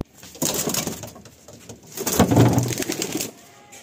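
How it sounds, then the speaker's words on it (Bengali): Pigeons coo in two soft bursts, close by, with rustling movement around them in a quiet loft setting. "এবার যে পায়রাটা আসবে ভিতর থেকে"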